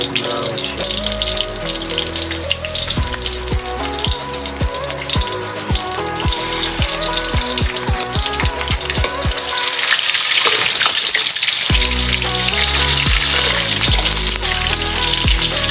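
Stuffed crab shells (rellenong alimasag), coated and placed face down, fry in hot oil with a continuous crackling sizzle throughout, heard under background music.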